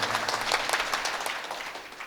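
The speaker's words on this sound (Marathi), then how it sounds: "एकदा टाळ्या वाजा" Audience clapping at a Marathi kirtan for the Shiv Jayanti festival, a crowd's continuous clapping that is moderately loud and steady throughout, with no voices.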